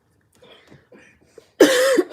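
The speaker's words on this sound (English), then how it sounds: "Not me and my son coughing." A single loud, harsh cough bursts out close to the microphone near the end, after a stretch of faint, scattered murmuring sounds.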